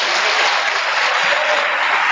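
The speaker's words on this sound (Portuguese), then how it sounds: "levanta suas mãos para os céus e dá o seu melhor aplauso para Jesus Cristo" A church congregation at a Baptist service applauding together, a dense, steady wash of clapping that stays close and loud throughout without any break.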